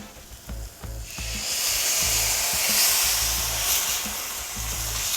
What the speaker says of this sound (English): we are going to deglaze with some wine